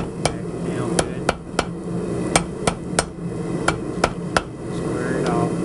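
Hot steel cable being forged into a skinner knife takes sharp, ringing hammer blows, about a dozen loud strikes in a quick, slightly uneven rhythm, close up, with a low background hum between them.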